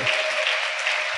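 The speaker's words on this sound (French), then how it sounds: "Est-ce qu'on peut acclamer?" An audience at a church gathering bursts into applause, a brief loud wash of clapping lasting about a second.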